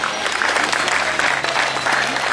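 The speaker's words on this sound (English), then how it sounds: "Give them a big round of applause." A county fair crowd gives a big round of applause to people returning to their seats, sustained loud clapping with a faint hum underneath.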